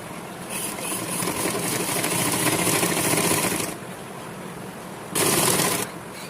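A sewing machine runs in a long steady whirring stitch, stops briefly, then sews a short second burst, close and fairly loud, while the back neckline of a garment is being stitched.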